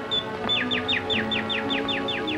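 A small bird sings a quick run of repeated, evenly spaced chirps, clear and fairly near, over a faint steady background.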